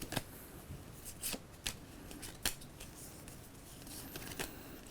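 Packs of 1989 Upper Deck baseball cards are torn open and handled, giving quiet crinkling foil and sharp irregular snaps and rustles, close by, with no talk.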